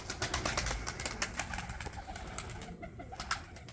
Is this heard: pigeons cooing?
yes